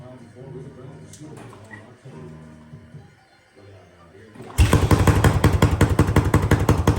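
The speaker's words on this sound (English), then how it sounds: "And there she goes. The old Yamaha XT" An old Yamaha XT 600 motorcycle catches and runs after a choke-assisted start, its loud, rapid engine firing taking over abruptly partway through after earlier talking and softer mechanical noise.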